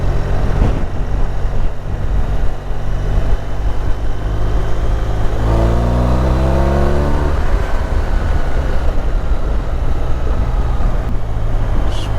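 Motorcycle engine rising in pitch as it accelerates through an overtake on an open road, loud and steady over constant wind and road rumble, with no talking.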